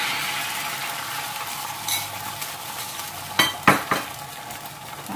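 Beaten eggs hit a pan and fry with a continuous bright sizzle, while a utensil stirs and clinks against the pan in a few sharp scraping knocks.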